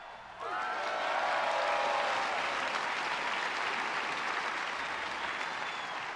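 A crowd at an X1RL race in France bursts into applause after a brief quieter start, and sustained, fairly distant clapping then fills the rest of the moment.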